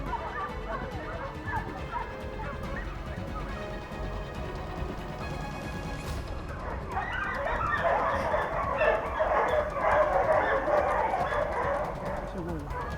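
A pack of hunting dogs chasing a wild boar barks and yelps excitedly in the distance on high ground of a Spanish hunting estate, growing louder and busier in the second half, with bird calls and faint voices mixed in.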